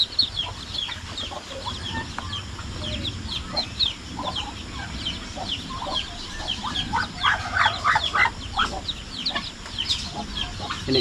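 About twenty newly hatched ducklings in a pen chirp and peep continuously, with many overlapping high calls that thicken and grow busier toward the end, heard close but fairly soft.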